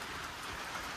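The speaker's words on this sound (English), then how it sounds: "Today's a rainy day." Steady rain hiss fills the whole stretch, an even wash of falling water with no voices and no distinct drops standing out.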